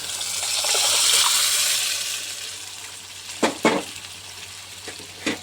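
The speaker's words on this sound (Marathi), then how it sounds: "आता मी डाळ मिक्स करणार आहे याच्यामध्ये." Mashed dal poured into sizzling spiced masala for dal makhani: a loud rushing sizzle swells and fades, followed by a few sharp stirring scrapes in the pan.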